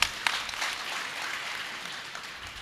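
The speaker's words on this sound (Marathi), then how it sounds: "आपण सर्वांनी टाळ्या वाजायचं आहे" Audience clapping at a religious bhajan gathering during a welcome ceremony for a maharaj, a dense, fairly distant patter of many hands that holds steady and fades slightly.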